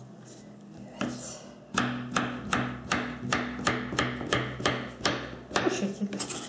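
Rapid, evenly spaced knife chops through zucchini on a board, a dozen or so crisp strikes in steady rhythm, close up, with a brief spoken word.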